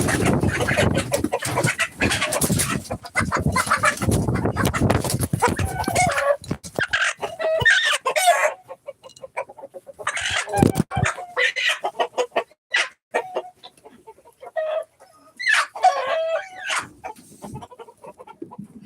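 Crowded hens cluck busily in a farm coop while a rooster crows among them, loud and close at first, then thinning into scattered clucks and squawks with quieter gaps.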